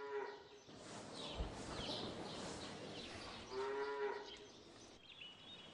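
Mountain yellow cattle moo in a few drawn-out, low calls, fairly distant and faint against a quiet rural outdoor setting.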